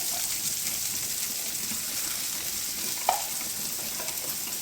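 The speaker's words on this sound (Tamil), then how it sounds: "வெங்காயம் நல்லா வதங்கட்டும்" Small onions sautéing in a pan as a village lentil-ball kuzhambu is made, producing a steady, moderately loud sizzle with a single brief clink partway through and no talking.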